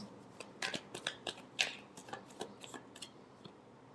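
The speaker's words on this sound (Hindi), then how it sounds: "last shuffle" Tarot cards being shuffled by hand in a quiet room: a quick series of soft, papery riffles and flicks, a dozen or so light taps in uneven rhythm, close and fairly faint.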